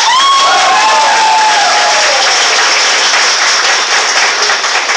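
A church congregation breaks into loud, sustained applause during a sermon on family deliverance, a dense wash of many hands clapping at once, holding steady and close for the whole stretch with a faint whistle or cheer early on.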